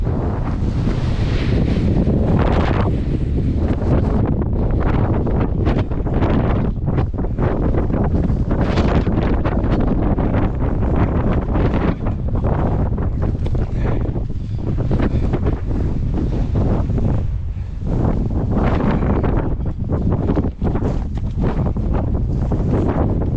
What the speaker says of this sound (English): This is a bit too windy to be up here.